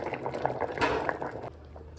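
A pot of bamboo shoot (karale) sambar, tempered with a hot stone for a smoky flavour, bubbles and simmers quietly with soft popping and liquid gurgles close by.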